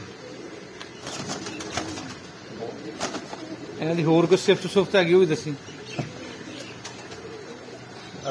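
Pigeons coo in a loft of strong Pakistani flying pigeons, a cluster of rolling coos swelling midway, while someone talks over them.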